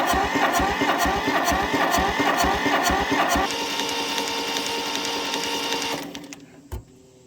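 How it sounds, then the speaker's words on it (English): A Kubota L185DT diesel tractor engine cranks over with a fast, steady mechanical chug and whir, loud and close, before the cranking cuts off near the end, leaving a brief clack and quiet. "We're gonna keep cranking it."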